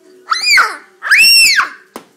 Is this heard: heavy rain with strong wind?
no